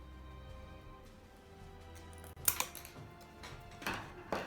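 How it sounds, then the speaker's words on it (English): Snips from cheap $2 scissors cutting through invisible grille wire: two or three sharp, close clicking cuts standing out over a quiet room, with a brief crunch near the middle and a final click at the end. "First, I will try to cut the invisible grille wire."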